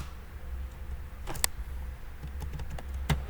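Keystrokes on a computer keyboard while entering matrix equations, a few scattered taps close to the microphone over a quiet room background.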